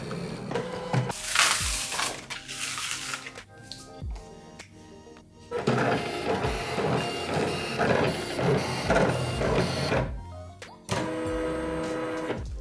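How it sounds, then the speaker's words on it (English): A cutting machine slices through printed paper lottery tickets, a loud mechanical whirring and grinding in long continuous stretches broken by short pauses, with repeated motor runs and no speech. "print and cut everything using a cutting machine"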